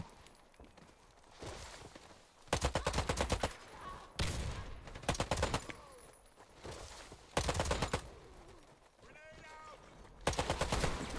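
Rapid rifle fire in the video game Warface comes in several loud, dense bursts of automatic shots with short gaps between them, along with faint footsteps and game effects.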